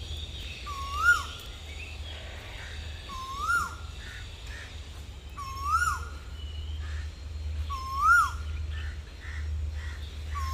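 A bird calls four times at regular intervals in a mangrove forest in Phuket, a short rising-falling note over a low steady hum and faint background chirps.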